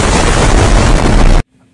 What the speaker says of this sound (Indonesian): di mana mereka langsung meledakkan area pintu masuk.